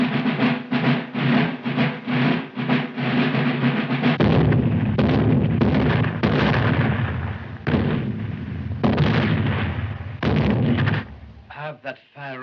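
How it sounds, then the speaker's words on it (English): Repeated artillery gunfire booms out in a rapid ceremonial volley, loud and close, rolling into a continuous thundering roar before breaking off, with voices heard at the end. "Have that firing stopped."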